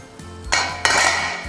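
A metal pasta pot is set down on a kitchen stove, giving two close clanks against the burner over a faint steady background hum.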